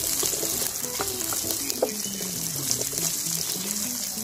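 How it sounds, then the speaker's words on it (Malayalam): Shallots tipped into a pan of spices frying for a Kerala-style cooker chicken masala, giving a steady close sizzle with small stirring clatters and no talk. "നമുക്കിതിലേക്ക് ഇനി എടുത്തു വെച്ചിരിക്കുന്ന ചെറിയ ഉള്ളി ആഡ് ചെയ്യാം"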